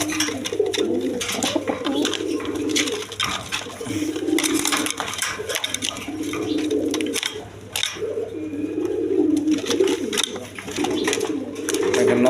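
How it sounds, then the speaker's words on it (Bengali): Quality Afsani Giriziyal pigeons coo continuously in a close chorus of low rolling calls over soft fluttering and scratching, with no talking. "দেখেন একদম কোয়ালিটি সম্পন্ন কবুতর, আফসানি গিরিজিয়াল"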